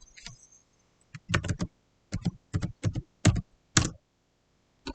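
Fingers type on a computer keyboard in short bursts of crisp key clicks, with brief pauses between runs, close and clear with no talking.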